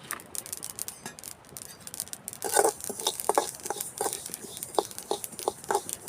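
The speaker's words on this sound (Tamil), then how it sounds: "இதான் பொரியுது." Ingredients for a healthy sweet snack crackle and pop while dry-roasting in a pan, a dense patter of small, sharp pops that thickens and repeats irregularly, close and fairly faint.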